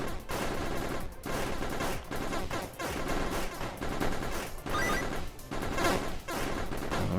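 Sustained rapid SMG fire from Hero Survival on PS5, a dense, loud crackle of overlapping shots with brief dips in rhythm across the whole stretch, heard without talk.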